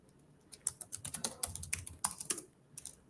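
Rapid bursts of clicking keystrokes on a computer keyboard as a Linux command is typed, with uneven rhythm and short pauses between clusters of keys, close and clear with no talking.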